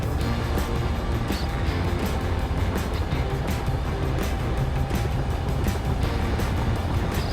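A Bell 47J Ranger helicopter in Microsoft Flight Simulator idles with a steady, loud engine drone while its rotor spins up, a rhythmic pulsing throb running continuously throughout.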